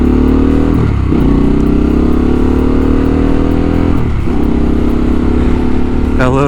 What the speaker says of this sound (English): Tiger stripe on a Harley Pan America, followed by Vance and Hines high output 450 exhaust.